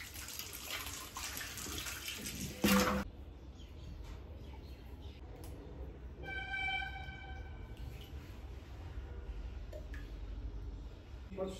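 Water being drained from a broken home fish tank makes a faint, steady trickle and gurgle of flowing water, with a brief louder splash. Light background sounds and occasional voices are heard.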